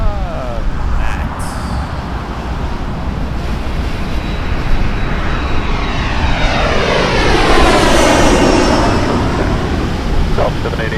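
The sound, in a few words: Embraer jet landing at Toronto Pearson Airport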